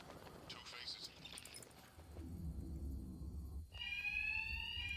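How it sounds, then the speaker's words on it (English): Electronic alarms blare in Batman: Arkham, a steady buzzing tone joined by a higher pulsing ring partway through, sounding over low rumbling game ambience. "these thugs can't hear a thing over the alarms"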